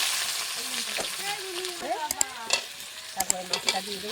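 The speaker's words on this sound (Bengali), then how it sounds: "কড়াইতে তেল দিচ্ছি, জিরে ফোড়ন দিচ্ছি" Cumin seeds and bay leaf frying in hot oil in a wok for a fish curry, a steady broadband sizzle with scraping stir sounds and clinks, while someone talks over it.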